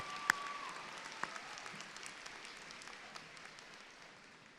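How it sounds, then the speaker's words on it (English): Applause from a crowd at a college commencement ceremony, fading gradually as the clapping tapers off, with a couple of sharper claps standing out near the start. "Can we give Latressa another round of applause?"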